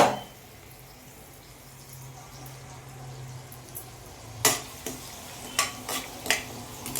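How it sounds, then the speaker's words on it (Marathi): Sabudana khichdi with crushed green chilli is sautéed in a pan. A soft sizzle runs underneath, then sharp, repeated scrapes and clatters of a spoon stirring against the pan come in the second half. "आता आपण साबुदाणा खिचडी परतवतोय त्यासाठी हिरो मिरच्या ठेचा घातला"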